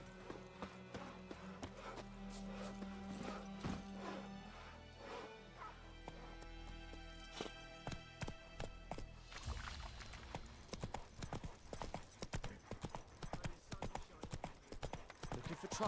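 Roach, the horse in The Witcher 3: Wild Hunt, trots with rhythmic clip-clopping hooves that quicken into a steady fast beat, and dog barks and game sounds come through early on.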